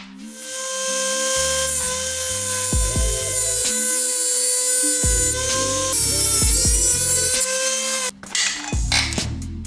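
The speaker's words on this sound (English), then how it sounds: "Thanks to the Dremel." A Dremel rotary tool grinds through a motorcycle chain on a 2019 Yamaha YZ450FX, a loud, steady high-pitched whine with shifting pitch as the cut load changes, then a rougher burst as the chain breaks free near the end.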